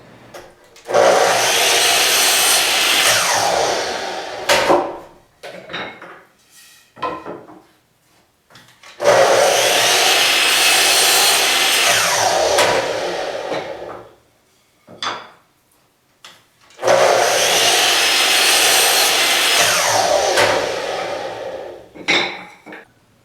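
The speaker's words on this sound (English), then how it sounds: "Once all the rungs have been cut to length" Wooden bar stool seat rungs are sawn to length by hand in three long, loud stretches of steady rasping strokes, each followed by a few short knocks and scrapes before the next cut.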